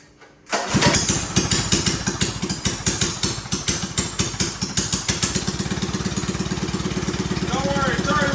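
A small mini bike engine starting with the choke on, catching abruptly after a brief pause and settling into a loud, rapid, uneven putter that steadies toward an even idle.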